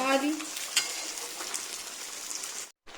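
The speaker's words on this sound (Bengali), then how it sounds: "ঠিক আছে এটা ভালো করে নেড়ে চেড়ে মিশিয়ে দিই আমি একটু নেড়ে দিচ্ছি" Chicken curry frying in a pan as it is stirred, with a steady sizzle and spoon scraping, then a short silence near the end.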